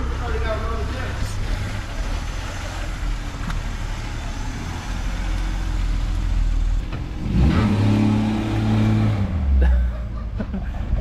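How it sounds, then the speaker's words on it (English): A BMW project car revs hard with its wheels spinning, a steady engine roar swelling into a louder, rising burst of revving near the end, with some talk in the background. "I'm gonna see which wheel peels out."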